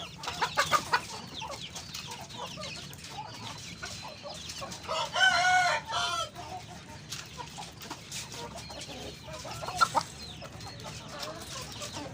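A pair of Shamo chickens, hen and rooster, housed in a small rooftop shed: clucking runs throughout, broken by one loud, drawn-out crow near the middle, with faint background sounds.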